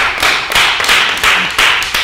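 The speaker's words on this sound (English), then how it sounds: "Give them a round of applause." A studio audience breaks into applause, a dense run of hand claps in quick bursts, loud and close, with no talking over it.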